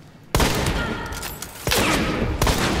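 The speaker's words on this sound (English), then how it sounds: "He fucking shot me" Gunshots ring out in the video game Hunt: Showdown, with loud, close blasts landing sharply in sequence, trailing echoes filling the gaps between them.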